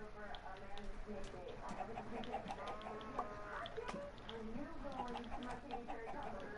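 Chickens cluck and chatter continuously in a video game farm pen, a busy layered flock sound at moderate level, with faint voices mixed in.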